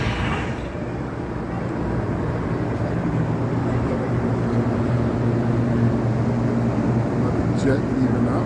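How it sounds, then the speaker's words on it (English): A jet aircraft takes off over the Las Vegas Strip, a steady, broad roar of engine noise that fills the street ambience, with voices murmuring in the background. "Jet leaving out."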